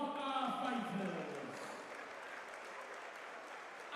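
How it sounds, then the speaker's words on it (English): Applause from the crowd at a combat-sports fight event, a broad wash of clapping that swells loud at the start, then holds steady with a busy, hall-filling texture. "we please have a big round of applause for both of our fighters"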